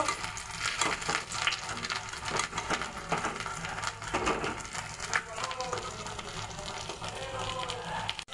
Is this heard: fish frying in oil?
yes